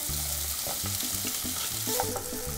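Diced potato and onion frying in a pan for a Mexican omelette filling, a steady close sizzle with faint stirring scrapes underneath and no talking.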